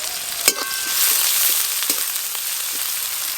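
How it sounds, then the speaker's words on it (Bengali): Nigella seeds temper in hot mustard oil, giving a close, steady sizzle with a few sharp pops over about three seconds. "কালো জিরে ফোড়ন দেব।"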